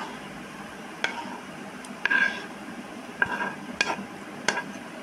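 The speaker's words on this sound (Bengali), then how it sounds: "এবার মা ঢেলে দেখাচ্ছে, বাটিতে পরিবেশন করে দেখালো।" Beetroot halwa is scooped and served into a bowl with a few sharp spoon-on-metal clinks and taps, scattered over several seconds against a quiet background.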